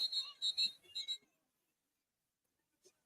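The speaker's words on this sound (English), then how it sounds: "we've got whistles, and the officials are talking." A series of short, shrill referee whistle blasts at an American football game sounds in quick succession, then silence, with one faint chirp near the end.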